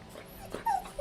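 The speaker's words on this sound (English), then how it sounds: "That is my dog in the background." A pet dog whimpers softly in the background, thin high whines rising briefly twice in a short moment, faint and a little distant.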